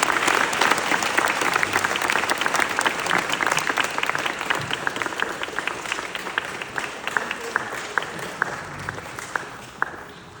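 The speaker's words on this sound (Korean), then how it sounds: "Will you give everyone a healthy applause?" A large audience claps loudly and continuously at a Seoul architecture biennale event, and the applause slowly thins out toward the end.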